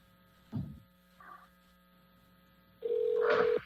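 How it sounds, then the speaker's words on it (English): A telephone line redialing to reconnect a remote caller during a city parks committee meeting: two short soft blips, then a loud steady tone lasting under a second over a low electrical hum. "do you want to dial him back up?"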